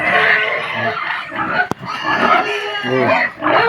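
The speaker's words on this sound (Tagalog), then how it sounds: "Ang mga baboy naghihingi din dahil nanghihingi rin ng mga pagkain." Pigs on a farm oink and grunt insistently while begging for food, a close, loud chorus of overlapping snorts and squeals with brief pauses.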